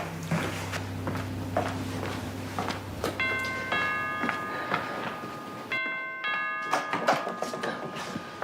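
A doorbell chimes twice in a tense movie scene, each ring a clear bright multi-tone chime over a soft room ambience with ticking and footstep-like knocks.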